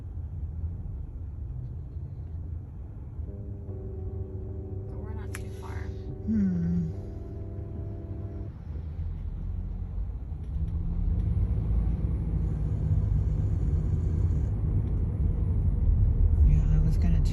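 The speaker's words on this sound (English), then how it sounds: "Yeah, there's a little bit of traffic by this area." Road traffic from inside a moving rideshare car: a steady low engine and tyre rumble that swells louder toward the end, with people chatting over it.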